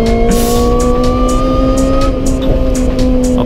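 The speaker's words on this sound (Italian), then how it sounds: "Sentite il volumetrico." A loud, continuous supercharged engine roar with a high supercharger whine, heard from inside a sports car on a track day as it pulls hard and keeps accelerating.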